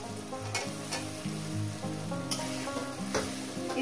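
Tomato frying with spices in a pan for a Bengali fish curry, a steady close sizzle with repeated scraping stirs and clinks throughout.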